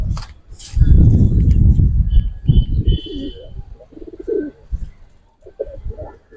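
Giribaj pigeons coo in a loft, their soft repeated calls mixed with close rustling and low handling noise, with wing flutters at the start.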